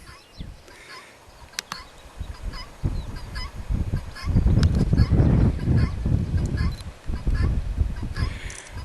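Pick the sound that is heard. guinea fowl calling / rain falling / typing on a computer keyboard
guinea fowl calling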